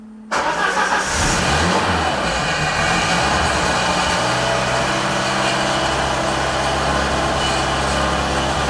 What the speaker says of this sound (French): C'est parti pour le démarrage.